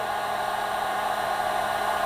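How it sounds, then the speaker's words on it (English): Heat gun blowing on super matte color change vinyl wrap film on a car door handle, a steady close airy roar that holds unbroken throughout with no other sound. "we can take our heat gun"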